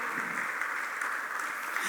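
Church congregation applauding, a steady broadband crowd clapping that fills the whole stretch at moderate level without distinct individual claps.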